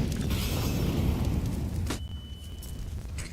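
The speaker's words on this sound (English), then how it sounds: "Flashbangs in, and Roy's gonna back away." A flashbang grenade goes off in the game CS:GO during a show match, heard as a loud, rumbling blast with a bright hiss that fades, followed by a sharp burst near the end with a thin ringing tone.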